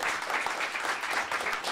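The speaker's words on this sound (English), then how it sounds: "give them a big round of applause" Applause from an audience at a European panel event, a dense, steady wash of many hands clapping at moderate distance, filling the whole moment without interruption.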